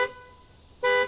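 A junkyard replacement truck horn mounted behind the headlight, heard from about 20 feet away, blares twice: a brief blast at the start and a louder, longer honk near the end, with no talking.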